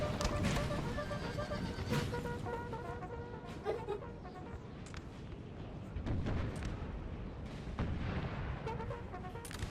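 Artillery and musket fire from a Napoleonic Total War 3 battle at Tolentino in the Neapolitan War, a dense ongoing barrage of booms and crackling shots with repeated sharp reports over a loud, steady battlefield din.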